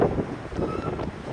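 Strong wind at the seaside in Saemangeum, Gunsan, buffets the microphone with steady low rumbling gusts that surge and fade throughout.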